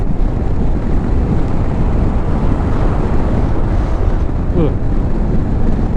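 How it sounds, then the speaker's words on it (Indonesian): Steady, loud wind buffeting the microphone while riding a motorcycle on a hot, dusty Pantura coastal route in Java, a continuous roar filling the whole clip with no talk. "Ini anginnya udah lumayan kencang di sini."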